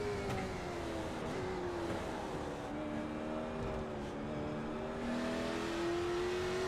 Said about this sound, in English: Right on board, we'll listen to the revs here.